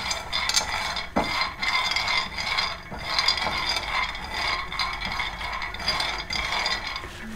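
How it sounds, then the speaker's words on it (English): Almonds dry roasted in a pan over a small flame, stirred continuously so the nuts rattle and scrape against the metal in an uneven, steady clatter, close up with no voice. "We have to dry roast it in a small flame or sim flame to get all the flavors outside from this almonds."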